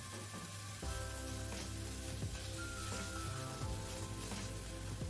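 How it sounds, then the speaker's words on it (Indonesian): Vegetables stir-fried with mushroom stock, salt, sugar and oyster sauce sizzle steadily in a pan, a loud continuous frying hiss with occasional stirring scrapes and no talk. "Kita tumis kembali sampai benar-benar layu ya."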